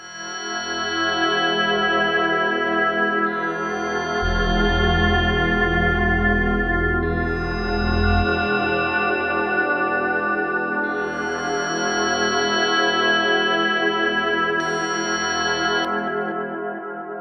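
A sustained vintage synth pad through a low-cut filter holds long, shifting chords with a thin, bass-light tone and a lush, echoey shimmer, steady in level throughout.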